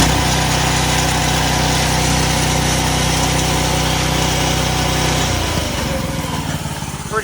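A homemade wakeboard winch engine idles loudly and steadily nearby with a constant droning hum, then shifts near the end as the note changes and roughens slightly.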